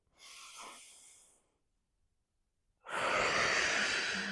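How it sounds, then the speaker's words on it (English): Two heavy exhaled breaths during a yoga exercise, close and breathy, the first softer and the second a long, forceful rush of air through pursed lips after a short pause. "Really heavy breath."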